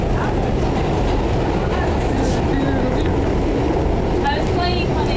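A train runs steadily on its rails, a loud continuous rumble with faint squeals and clatter throughout, while people talk over it.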